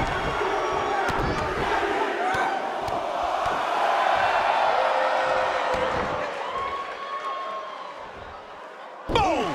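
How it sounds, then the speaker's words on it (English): A capacity arena crowd in a WWE 2K wrestling game roars and cheers in a continuous swell that fades a little toward the end, broken by a sharp slam-like hit near the close. "This capacity crowd starting to sense the end is near"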